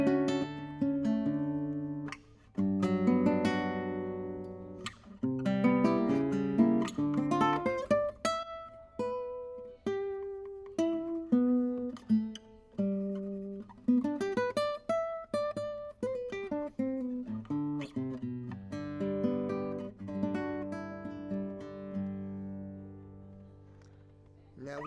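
Ortega entry-level nylon-string classical guitar with Indian rosewood back and sides and a rippled Sitka spruce top plays a solo passage of plucked notes and chords, fairly soft and clear with ringing decays.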